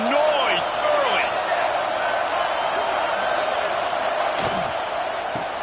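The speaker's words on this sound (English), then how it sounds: "This crowd bringing the energy and noise early." Football stadium crowd cheering early in a game, a broad continuous roar of many voices with scattered whistles and shouts rising above it.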